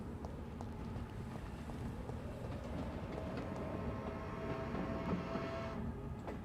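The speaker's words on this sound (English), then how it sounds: "Yeah, there's a train." A train in the video game Vampyr rumbles past as a low, continuous rolling drone with faint metallic clanks on top, fairly quiet and steady throughout.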